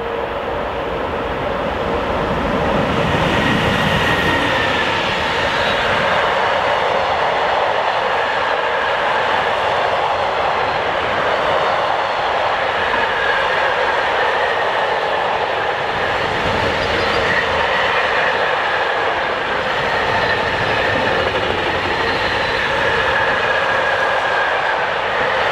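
A train hauled by a Railpool Traxx locomotive passes at night on a German high-speed line at Rohrbach, a loud, continuous roar and rumble that holds steady close by for the whole stretch.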